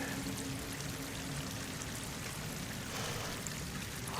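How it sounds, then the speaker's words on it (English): Water pours and rushes into an enclosed space with slick walls in Horizon Forbidden West, a steady broadband gush that holds even throughout and swells slightly near the end, with no voices. "Water's coming in."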